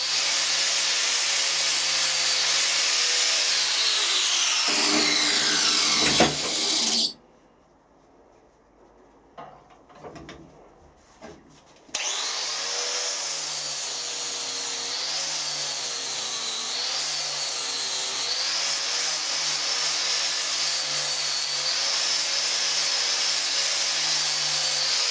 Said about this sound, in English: You always put a grinding or a polishing disc on.